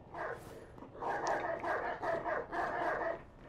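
Dogs in the open-world game Watch Dogs 2, set in San Francisco, bark in a short run of repeated, rhythmic woofs, moderately close but fairly quiet, with several barks spaced about half a second apart.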